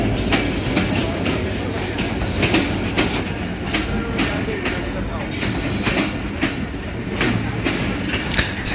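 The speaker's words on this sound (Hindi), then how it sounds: "काफ़ी स्पीडी एंट्री थी और काफ़ी अच्छी ब्रेक है इसकी" Bahauddin Zakariya Express train pulling into Sadiqabad railway station in Pakistan and braking, a loud continuous rumble of wheels and cars with squealing and clattering that stays steady throughout.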